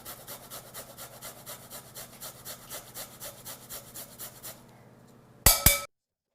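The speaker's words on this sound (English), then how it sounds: "And I'll grate in a little fresh garlic." Fresh garlic is grated for a pizza dip, heard as a close, rhythmic series of scraping rasps at a quick, even pace, followed by a couple of sharp knocks against the grater.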